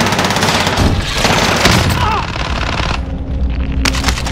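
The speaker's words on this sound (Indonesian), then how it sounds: "Banyak tembakan nih." Loud bursts of rapid machine gun fire in Call of Duty: Warzone rattle on and off at an airport, with heavy booms and a dense, chaotic layer of gunfire throughout.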